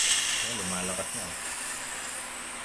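CO2 gas hisses steadily out of a leaking airsoft WG revolver in a loud, continuous broadband rush. Someone speaks briefly beneath it near the start.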